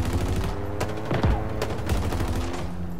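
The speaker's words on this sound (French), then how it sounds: "Je tire!" Gunfire rattles in the video game Halo Infinite, a dense fusillade of rapid shots and sharp impacts over a steady loud battle din, close and continuous throughout.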